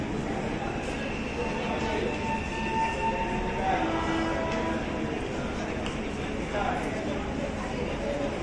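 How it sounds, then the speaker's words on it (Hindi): A Mumbai local commuter train rolls into Mumbai Central station with a steady, loud rumble and rattle, while indistinct voices murmur in the background. "यह आ गई है हमारी लोकल ट्रेन"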